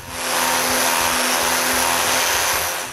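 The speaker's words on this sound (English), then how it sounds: "I need to sand all the coves with the linear sander and an 80 grit sandpaper" Sanding wooden door coves with a linear sander and 80 grit paper produces a dense, even scratching roar over a steady motor drone, held close and unbroken from start to finish.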